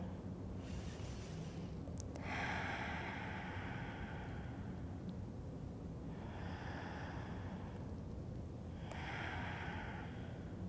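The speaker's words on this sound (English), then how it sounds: "Take 2 deep breaths here." Slow deep breaths during a seated chair yoga routine, with two long swells of inhaling and exhaling over steady low background noise, heard close with no talking.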